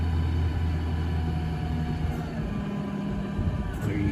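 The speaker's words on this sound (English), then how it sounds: "Listen to that thing. That's that brand new motor." A new engine in a 2012 Ford F550 truck idles close by with a steady low rumble and a constant tone, smooth and even throughout with no voices.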